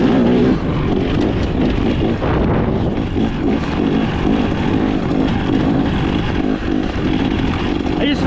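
A 2025 XCW 300 two-stroke dirt bike engine while riding off-road, a loud, steady, buzzing drone held near and continuous throughout, with slight rises and dips in pitch.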